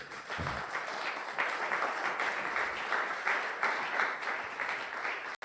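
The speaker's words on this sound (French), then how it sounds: "Est-ce que tu peux acclamer très fort ça?" Church congregation at a Sunday thanksgiving and praise service bursts into sustained, loud applause with cheering, a dense continuous wash of many hands clapping that cuts off abruptly at the end.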